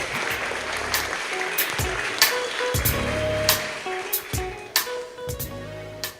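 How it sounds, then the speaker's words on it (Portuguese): Applause for a speaker's contribution at a Brazilian talk event, a steady wash of many hands clapping with sharper individual claps popping out, moderately loud and continuous. "Uma salva de palmas aí pro Júlio, mais uma intervenção."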